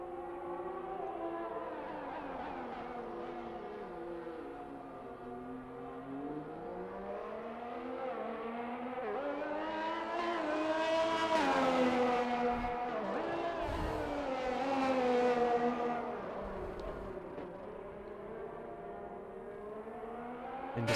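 Alfa Romeo race car engine in a racing video game on a wet track in Portugal, a loud droning howl that rises and falls through gear changes as the car pulls down and back up hills.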